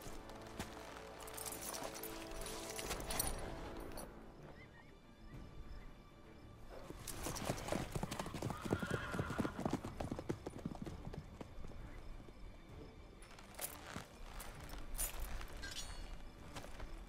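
Horse hooves clip-clop in rhythmic bursts in The Witcher 3 video game, fairly close and loud, with brief pauses between stretches of trotting.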